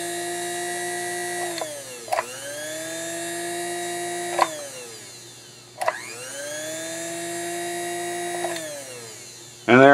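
A repotted electric motor runs on an electronic foot controller, whining up and down through repeated speed swings, with sharp clicks at each change and a loud surge at the end, close and alone.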